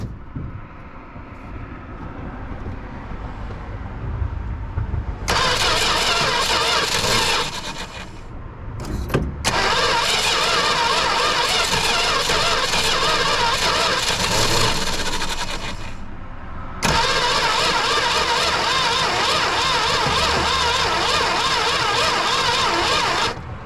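A 1966 Dodge Dart engine, parked for 25 years, cranks after a carburetor rebuild: loud, steady starter churning in three long bursts with brief pauses between, close up and without talk, never catching into a run.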